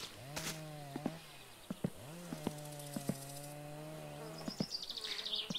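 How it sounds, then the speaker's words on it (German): A neighbour's chainsaw in the video game My Summer Car, a buzzing motor that revs up and settles into sustained droning bursts separated by brief sharp clicks, fairly quiet and without talk. "Er tut immer mit seiner dummen Kettensäge mich nerven."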